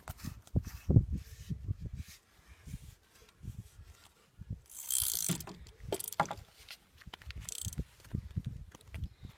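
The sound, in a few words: fishing reel being tightened onto a carp rod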